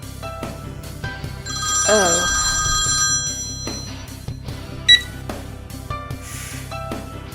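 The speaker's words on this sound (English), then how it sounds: "Sorry, I got a phone call." A phone rings with an incoming call in a Persona 3: Memento Mori video game scene, a fairly loud electronic ringtone over ambient sounds, with a brief vocal gasp and exclamation during it.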